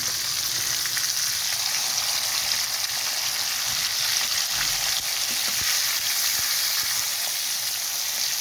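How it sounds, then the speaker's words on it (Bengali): Hilsa fish pieces rubbed with salt, turmeric and chili fry in hot oil, giving a loud continuous crackling sizzle with a few faint knocks, steady throughout and no voices. "আগে থেকে লবণ, হলুদ, মরিচ দিয়ে মেখে রাখা ইলিশ মাছগুলো হালকা করে ভেজে নেব।"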